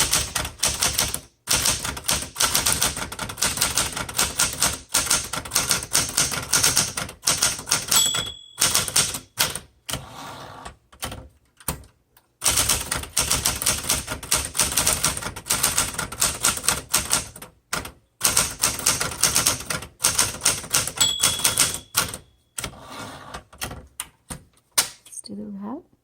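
Rapid clattering keystrokes on a 1968 Smith Corona Super Sterling manual typewriter, in bursts with short pauses and a bell ding or two, loud and close.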